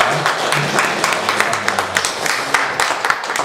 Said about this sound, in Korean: 하나님께 찬양의 박수 드립니다.